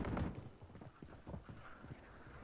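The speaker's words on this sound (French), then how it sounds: "J'entends ces bruits de pas." Footsteps in the video game Warzone tap out a quick, uneven run of hard thuds, fairly faint and close, with no one speaking over them.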